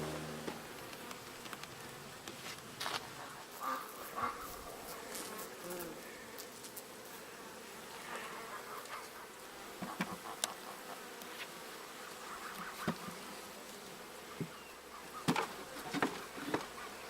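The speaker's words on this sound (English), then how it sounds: "It's full of bees" Honeybees in an open homestead hive, a steady, low buzzing swarm heard fairly quietly, with occasional louder passes and handling noises.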